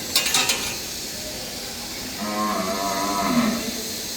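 Calves on a Meghdubi Agro farm mooing, one drawn-out nearby moo in the latter half after a few short metallic clinks at the start.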